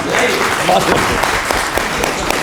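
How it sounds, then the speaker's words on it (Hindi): Audience applause at a pensioners' association gathering, a dense steady clatter of many hands clapping nearby for over two seconds with a few sharper claps standing out. "ताली"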